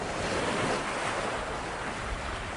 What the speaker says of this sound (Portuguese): O amanhecer em Galápagos é sempre acompanhado pelo som das ondas do mar.